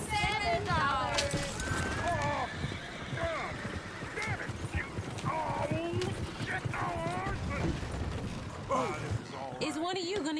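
Horse hoof clip-clops and a neigh in the Red Dead Redemption 2 game, rhythmic steps and creaking mechanisms mixed under continuous talking voices.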